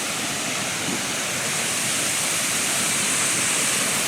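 Arslanbob waterfall pours with a constant, dense roar of falling water, loud and close, with no voices over the rush.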